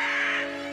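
A cartoon bird gives a single short, harsh caw, loud and close, with no talking over it.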